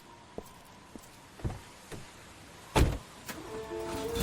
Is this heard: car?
yes